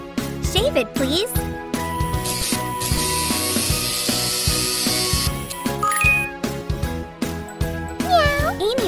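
Cartoonish cat meows over bouncy game music with jingles and ratcheting clicks, repeated several times.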